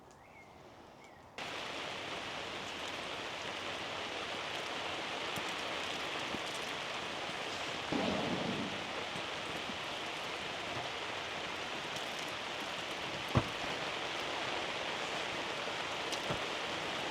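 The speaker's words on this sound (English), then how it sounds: "I think the next batch of rain is about to move in." Steady rain pours down around a campsite, a dense, even hiss that fills the whole stretch after a quieter opening, with a brief louder patch partway through and a sharp single tap near the end.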